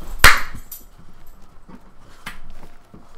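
Pet dogs in a room give a sharp bark up front, then a fainter bark or yelp follows a couple of seconds later, with quiet panting and shuffling in between.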